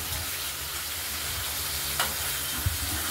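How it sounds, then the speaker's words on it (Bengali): Pieces of katla fish fry in hot oil, making a loud continuous sizzle heard close up, broken by a couple of brief clinks. "মাছগুলোকে আমরা এইভাবে ভেজে নেব এক এক করে"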